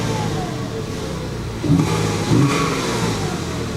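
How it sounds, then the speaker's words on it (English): Porsche Boxster S engine, an oil-leaking car with a broken spring, running steadily up close, with two short revs blipping the idle partway through. "engine seems to run sweet"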